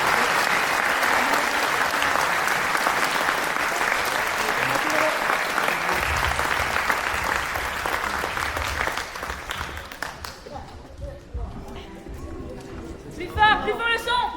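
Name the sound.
audience applauding the participants at a show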